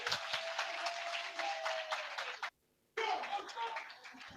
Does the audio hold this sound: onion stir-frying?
no